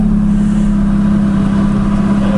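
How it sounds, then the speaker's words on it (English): A loud, steady engine drone with a deep exhaust note, a Ferrari 430 idling or pulling away close by, no talking. "when he takes off, my microphone will get sound of his exhaust"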